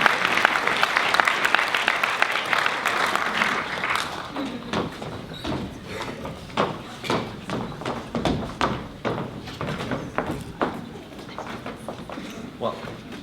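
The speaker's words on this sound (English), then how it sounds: "Let's have another round of applause" Audience applause at an awards show for 48 Hour Film Project teams, dense clapping at first that thins into scattered claps and thumps with murmuring voices over the rest.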